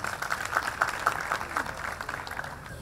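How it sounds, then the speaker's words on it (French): An audience at a youth entrepreneurship event applauds in steady, dense clapping, heard at moderate volume for the whole stretch with a voice faintly over it. "On applaudit."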